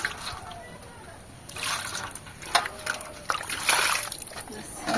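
Boiled eggs being rinsed in water, with splashing and sloshing that swells in irregular bursts, fairly close and continuous, beneath a faint background voice.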